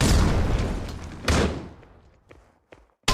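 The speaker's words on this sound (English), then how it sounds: "Incendiary out." An incendiary grenade bursts in a competitive tactical shooter match, a loud booming blast that decays into a crackling burn, with a couple of smaller thuds and another sharp hit at the end.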